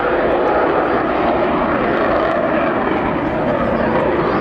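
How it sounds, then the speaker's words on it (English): Loud, continuous roar of jet engines from a fast jet aircraft climbing, steady and close, with no break throughout. "starts to climb up, he has to hold those engines back because this is a really fast aircraft"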